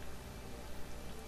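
Rain in the survival video game Sheltered makes a steady, dense hiss that stays even and unbroken throughout, at moderate level, with no speech.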